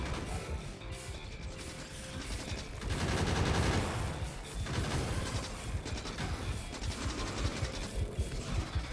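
Basic bullets fire nonstop in the factory-building game Factorio, a dense, loud rattle of rapid gunfire with clanking mechanical noise and impacts running throughout.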